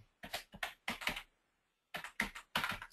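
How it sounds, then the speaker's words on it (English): Close, quiet keystrokes on a computer keyboard come in two short bursts of rapid clicks separated by a brief pause. "just highlight over my name, type in Bobby."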